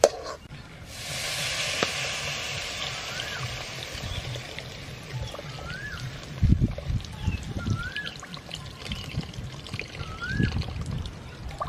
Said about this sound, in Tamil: இப்போ வந்து புளி தண்ணி வந்து ஊற்ற போகிறோம்